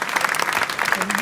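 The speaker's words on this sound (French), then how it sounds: "on applaudit bien fort Cédric Azou, le champion de France, deuxième" A crowd at the finish of the Millau 100 km race claps briefly for a runner, close and steady, with a voice speaking over the applause.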